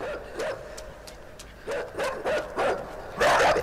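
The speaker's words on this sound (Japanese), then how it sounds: "うわ、犬まだ来てる、犬まだ来てる。" A dog chasing the player in the video game INSIDE barks in a string of sharp, loud yelps spaced through the stretch, the last burst the loudest.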